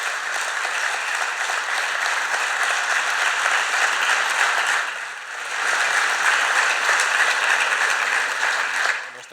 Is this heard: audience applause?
yes